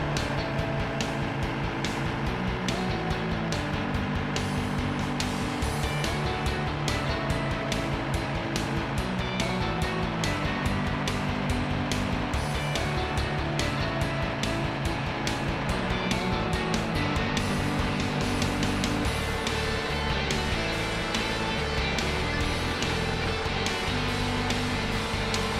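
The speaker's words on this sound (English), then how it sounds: "In today's video, we'll be demonstrating a new 2012 Case TR270." A new 2012 Case TR270 tracked skid steer runs with a steady, loud diesel engine drone and mechanical rumble that holds constant throughout, close by with no talking.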